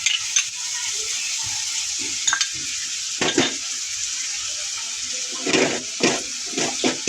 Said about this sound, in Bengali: ডিমটা দিয়ে দিব, একটু লবণ দিয়ে নিচ্ছি ডিমটার ভিতরে।